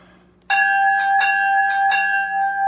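A bell sound from a RailPro sound system in a large-scale Bachmann Dash 9 model locomotive rings loud and close, a sustained electronic clang repeating in about four evenly spaced strikes.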